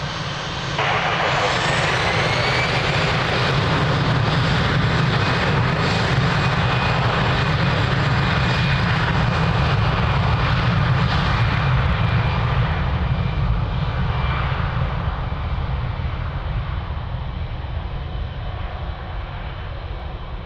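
An airplane taking off at Lisbon Airport, a sustained loud roar of jet engines building after a faint start and holding steady, then easing slightly as it climbs away.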